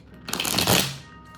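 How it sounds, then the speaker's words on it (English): A brisk riffle of tarot cards being shuffled, a quick papery flutter lasting about a second, close and clear. "Do one more shake and a shuffle. Cut the deck."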